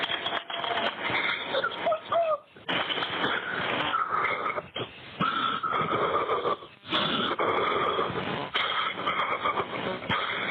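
Heavy, ragged breathing plays back from a recording, loud and continuous with short pauses between labored breaths, noisy and slightly distorted, with no talk over it.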